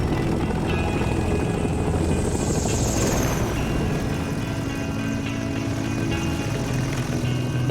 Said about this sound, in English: Nicknamed the Flying Banana, this tandem rotor workhorse from the 1950s lifted troops and supplies at record speeds.